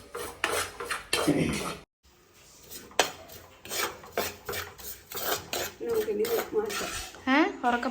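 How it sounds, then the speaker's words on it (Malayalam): Metal utensils clatter and scrape against a hot pan as food is transferred in with the heat off, a busy run of clinks and rasps, a brief pause, then more scraping and stirring. "ചട്ടിയിൽ ഇങ്ങോട്ട് മാറ്റാം."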